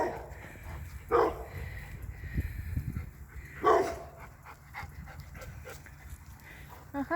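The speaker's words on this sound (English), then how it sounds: "the neighbor's dog's coming to say hello" A neighbor's dog approaching on a forest walk near the house, panting close by with soft snuffling bursts and a few brief whimpery sounds, over quiet outdoor background.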